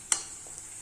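A sharp scrape as an onion rice mixture is stirred in a pan, followed by a soft sizzle and a faint second scrape, close and brief.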